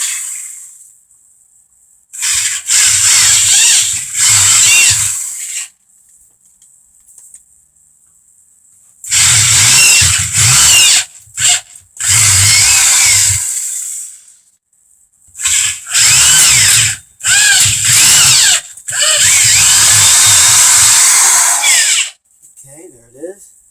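A power drill with a large bit bores holes for bolts in a series of loud, close bursts of whining, grinding drilling, each lasting a few seconds with quiet gaps between them.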